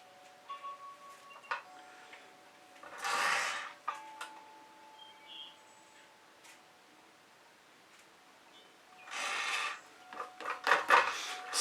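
Spatula swiping fluid acrylic paint with Floetrol across a canvas, heard as quiet rasping scrapes in two main bursts, one brief stroke early and a longer series of rubbing swipes near the end, with no talk.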